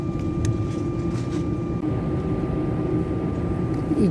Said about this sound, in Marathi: धावपट्टीवरून रिमा विमान धावत आहे